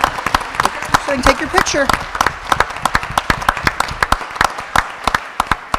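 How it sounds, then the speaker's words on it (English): Enthusiastic clapping from an audience at a school board of education meeting honoring students, sharp dense claps continuing throughout while a person speaks over them. "Let's give a round of applause."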